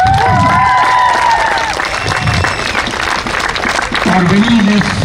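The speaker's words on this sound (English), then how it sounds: "a big round of applause to Kini RR" A crowd claps and cheers loudly for the winning side at a T20 cricket tournament final, dense continuous applause with whistles and shouts, and a voice speaking over it near the end.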